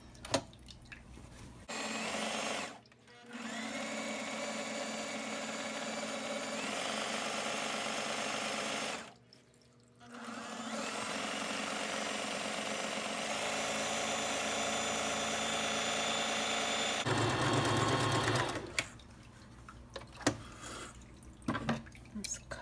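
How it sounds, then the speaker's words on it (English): A sewing machine stitches up the side seam of a fabric dust bag, running in long steady bursts of continuous motor whir with brief stops between them and a few clicks and handling noises at the end. "We still have another side that I need to sew together, and I am going to repeat the process."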